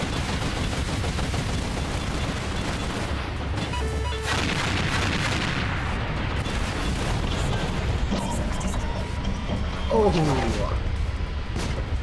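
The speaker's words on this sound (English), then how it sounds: "Things are shooting me." Gunfire and artillery blasts from a sci-fi battle in the game Angels Fall First, a steady barrage of shots and booms that runs for the whole stretch beneath a brief spoken exclamation.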